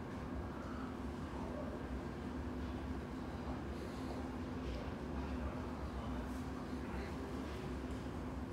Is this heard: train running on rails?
yes